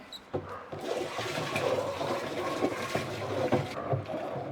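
Isopropyl alcohol poured into sweet water and stirred with a stick while making homemade floor cleaner, giving a steady splashing, swirling liquid rush with a few sharper sloshes throughout, fairly close and alone.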